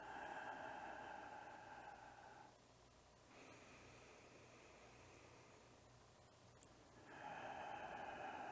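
Slow, soft breaths during a seated qigong flow exercise: a long airy inhale, a quieter pause, then a long exhale, heard close and faint against a steady background hiss.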